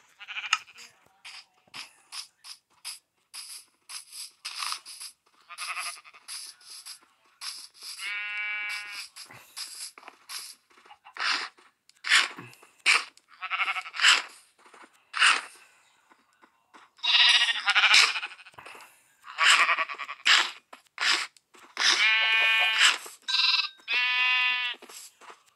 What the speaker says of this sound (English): I think I'm gonna breed some more of my sheep.